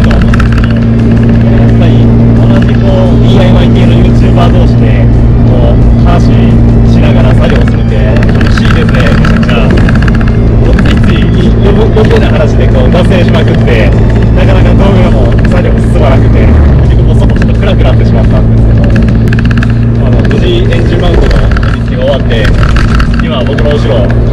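A Mazda Roadster on a road test drive after engine mount work, the engine humming steadily from inside the car with road noise throughout while someone talks over it.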